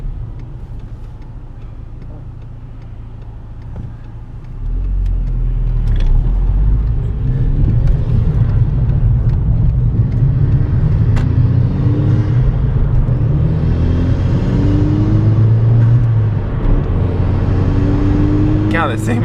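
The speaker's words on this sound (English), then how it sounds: "God, this thing makes a lot of noise, or that intake makes a lot of noise." MK5 car with a cold air intake fitted revs up from idle into a loud, rumbling drone. The intake roars close and steady, with voices talking over it at the start.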